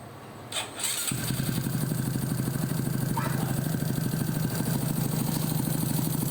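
A Honda XRM 125 fuel-injected motorcycle engine with a repaired timing chain tensioner is cranked and fires up about a second in, then settles into a steady, rapid, close idle with no talking.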